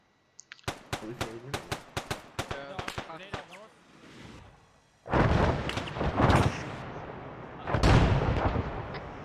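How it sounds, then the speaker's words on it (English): Rockets exploding in Arma 3: a rapid string of sharp cracking shots gives way to two heavy, rumbling blasts, each swelling and fading over a couple of seconds, with voices shouting in between. "Rockets."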